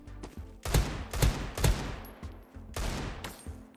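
Rapid bursts of Desert Eagle pistol fire in the Krunker.io shooter game, with about five loud sharp shots in an uneven sequence over steady game background noise.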